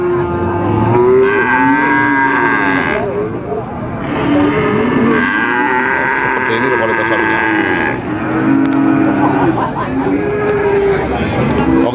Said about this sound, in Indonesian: kita beralih ke sapi bakalan ya